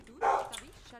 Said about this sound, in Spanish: ¡Qué pesada la perra!